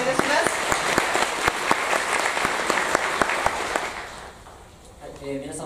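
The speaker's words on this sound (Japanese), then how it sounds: "それでは改めまして、大きな拍手をお願いいたします。" An audience at a regional revitalization symposium on the new western Kyushu bullet train claps loudly with crisp, steady hand-claps, then the applause tapers off and a voice begins speaking near the end.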